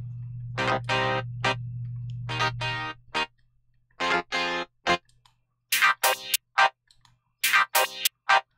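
Synth chords run through an Arturia SEM filter effect, sounding as a series of short, loud chord stabs with gaps between them, over a low sustained drone that fades out partway through.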